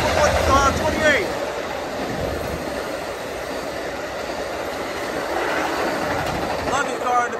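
An Amtrak Coast Starlight passenger train hauled by P42 locomotives rumbles past close by at the Oakland Coliseum station, a steady roar of wheels and engine with faint squeals at the start and end.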